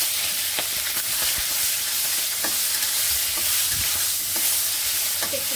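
Fish bones sizzle and crackle steadily in hot oil with dried chili and panch phoron, with occasional stirring clatter against the pan, close and continuous with no talking.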